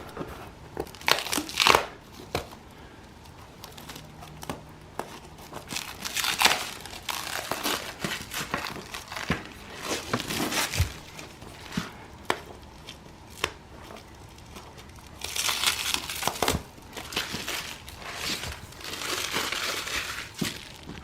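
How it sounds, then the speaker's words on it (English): Plastic wrap is pulled and crumpled off a rolled natural beige indoor area rug, loud close crinkling in irregular bursts with rustling pauses between and no speech. "the last thing that's holding it together is this plastic wrap"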